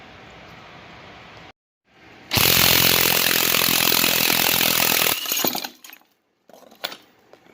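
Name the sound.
removing crank pulley bolt on 5.3 LS engine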